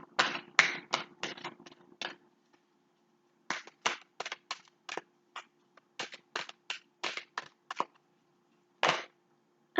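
Oracle cards being shuffled and drawn from an Egyptian Isis deck: bursts of close, crisp riffling and snapping card flicks in quick clusters, separated by short silent pauses, with no talking.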